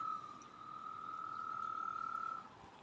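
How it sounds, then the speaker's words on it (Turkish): A steady, continuous frog trill holds one pitch for over two seconds, moderately loud against quiet night background noise, then stops abruptly. "Kurbağaların sesi mi bu?"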